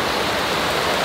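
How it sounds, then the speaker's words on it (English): Heavy rain pouring outside, a dense continuous hiss of falling water filling the whole moment, loud and even with no other sounds. "it's raining. You can hear the rain"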